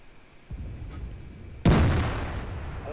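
One heavy tank gun shot in a tank combat game on a 112, aimed at a KV-1S, lands as a deep booming blast with a long rumbling tail after a duller thud and low engine rumble.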